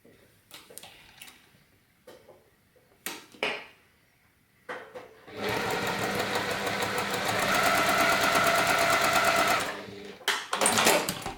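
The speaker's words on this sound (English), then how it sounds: "we're going to take the two squares and we're going to stitch those together." A sewing machine stitches two quilt squares together for a crazy log cabin heart block, a rapid mechanical chatter running steadily for about four seconds after a few scattered handling clicks and knocks, close and moderately loud with no talk.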